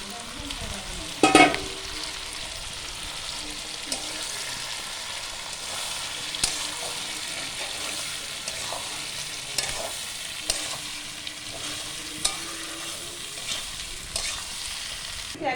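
Washed dalia and dal stirred into a pot with vegetables, nuts and raisins for khichdi, giving a steady close sizzle with scraping spoon strokes and a sharp clatter near the start, no talk.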